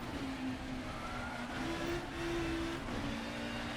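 Touring cars of the Mondeo, Vectra and Alfa Romeo era race around the Brands Hatch circuit in Britain, engine notes droning steadily at middle distance with rising and falling pitch as cars pass, under constant broadband track noise.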